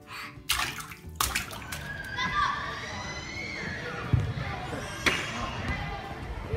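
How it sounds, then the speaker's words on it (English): Baby splashing water in a bathtub, with several sharp splashes and sloshing close by, while an adult voice talks over it. "Did you just learn how to splash?"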